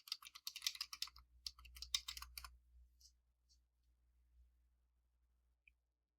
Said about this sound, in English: we'll type the command docker-compose-up